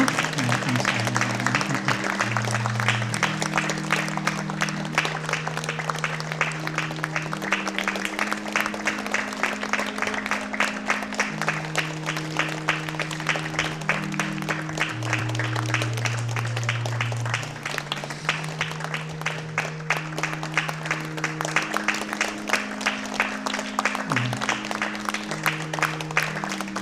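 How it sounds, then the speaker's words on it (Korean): A church congregation applauds steadily through a Sunday morning worship service while organ or keyboard chords sustain loudly underneath, the clapping an even wash that runs for nearly half a minute. "그동안 수고하셨다고 우리 박수로 계속해서 인사했으면 좋겠습니다"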